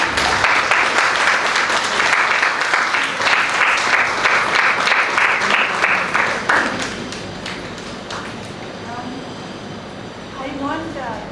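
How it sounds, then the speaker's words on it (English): A conference audience at a keynote event breaks into dense, loud applause lasting about six seconds before it thins out and fades, leaving scattered claps and a voice speaking. "Please give them a big round of applause"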